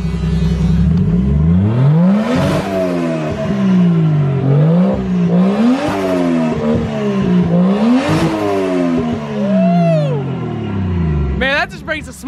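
A Toyota 1JZ engine fitted in a Nissan 350Z fires up and revs loudly and close, climbing and falling in repeated rising blips with harmonic whine, someone speaking briefly near the end.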